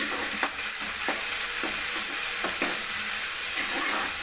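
Onions with ginger garlic paste sauté in a pan for a country chicken curry. A steady moderate sizzle runs throughout, broken by soft stirring scrapes and ticks at irregular intervals, with no voices.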